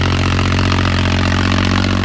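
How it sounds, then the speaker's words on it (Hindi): A tractor engine runs with a rotavator attached on a farm field, giving a loud, constant, even droning hum that never lets up. "बाकी देखो शेर पर रूटर चल रहा है।"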